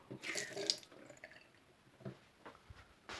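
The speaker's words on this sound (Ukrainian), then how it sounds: "І зливаємо гарячу воду з лівої сторони." Quiet trickling and dripping of hot water draining from a water heater, with a few small splashes, faint and close, no voices.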